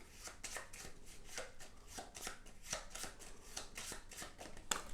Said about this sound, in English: we're going to shuffle the AI's cards